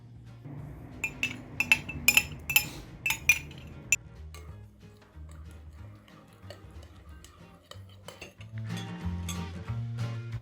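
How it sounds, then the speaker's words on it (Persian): A spoon clinks repeatedly against a bowl in quick bursts as an activated yeast mixture for pizza dough is stirred, then softer scraping follows, with a low hum in the background. "خمیر مایه فعال شده رو بهش اضافه میکنیم و یکم هم میزنیم."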